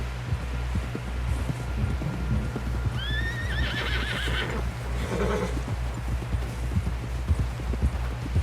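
Horse hooves clip-clopping with a sharp whinny partway through, part of a Red Dead Redemption 2 game scene over a steady low hum, with a voice briefly calling out.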